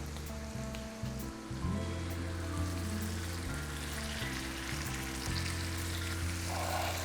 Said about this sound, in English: So in the meantime, I'm gonna add the tomato sauce.